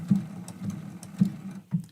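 Sewing machine taking a few slow stitches and back stitching on a quilt block, heard as a handful of separate low thumping stitch bursts spaced apart, fairly quiet and alone without talk.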